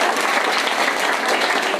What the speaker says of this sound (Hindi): तालियां बजा दो बच्चों एक बार।